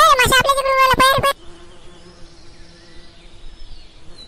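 A swarm of bees from a hive gives off a faint, thin buzzing in the background, starting right after a brief burst of a man's loud, agitated voice.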